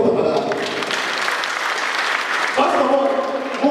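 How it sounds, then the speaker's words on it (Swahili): An audience at a gathering claps in a dense, sustained round of applause, with a speaker's voice over it and a brief swell near the end. "Tupige makofi tafadhali"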